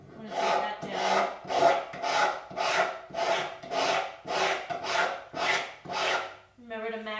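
A wood rasp is pushed in long, even strokes along a spokeshave-shaped wooden body. About ten rhythmic rasping scrapes come close and clear, each swelling and fading, and a short tonal scrape closes the sequence.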